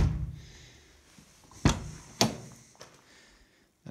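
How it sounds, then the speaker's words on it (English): Car door of a 1989 Ford Probe GT shutting, with two sharp, solid thuds a moment apart and a fainter knock after, heard alone in a quiet interior. "The door closes pretty good."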